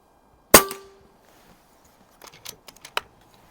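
An Umarex Origin air rifle fitted with a Buck Rail silencer fires one sharp, muffled crack, followed by a series of light metallic clicks and handling taps.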